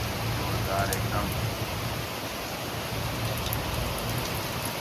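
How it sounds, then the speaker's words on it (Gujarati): Heavy first monsoon rain in Surat pours down in a steady, loud, broadband hiss, drumming continuously on surfaces nearby with no letup. "વરસાદ આવી ગયો છે જોરદાર."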